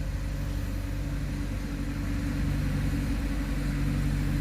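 A leaf vacuum truck sucking up leaves gives off a continuous low engine rumble and a steady mechanical hum that holds evenly and grows slightly stronger toward the end.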